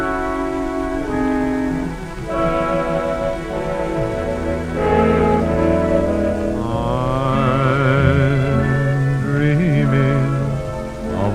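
The original 1942 recording of White Christmas plays from a 78 rpm record, a steady orchestral arrangement with a crooning vocal line running continuously throughout, carried over a faint surface hiss.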